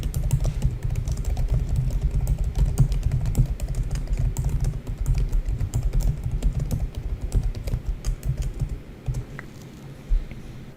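Typing on a computer keyboard, with steady, rapid key clicks over a low background hum, close and continuous for several seconds with no one speaking.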